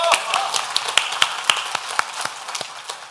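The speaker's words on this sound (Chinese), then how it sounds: "我觉得我们是不是应该多给他们一点掌声？" Audience clapping at a programmer comedy roast show: a quick run of sharp, separate claps over roughly three seconds, sounding like a modest scattering of hands rather than a full roaring ovation.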